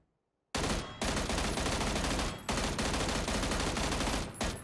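FAMAS rifle firing in burst mode in the video game PUBG, loud, dense rapid shots in repeated bursts after a brief silence, with short gaps between bursts.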